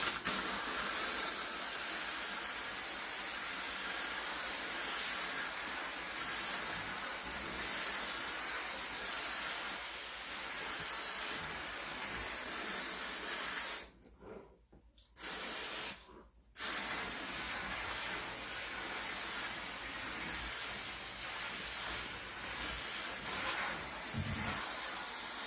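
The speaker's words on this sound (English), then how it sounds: "I'm going to go ahead and pull the trigger to release the steam" A handheld steam cleaner blasts a steady, loud hiss of released steam for a long stretch, cutting off briefly twice near the middle before resuming, with no talking.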